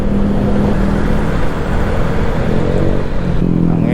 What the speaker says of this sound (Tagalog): Ingay itong tambutso na tong click na to,